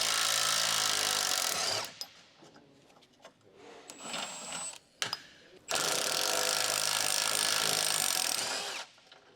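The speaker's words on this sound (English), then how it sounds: "Use an 18mm deep socket with an electric impact wrench." Electric impact wrench with an 18mm deep socket loosening the rear lower control arm bushing bolt on a 2013-2019 Ford Fusion, heard as two loud, sustained, buzzing hammering bursts with quieter clanks between them.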